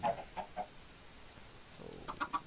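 Minecraft chickens in the Nether give short, quiet clucks, three quick ones at the start and another cluster of three near the end, over a soft low background.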